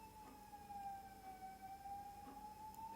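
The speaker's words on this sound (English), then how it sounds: "the sound of the ambulance" An ambulance siren wails steadily outside, a continuous tone slowly rising and falling, faint and distant behind a quiet room.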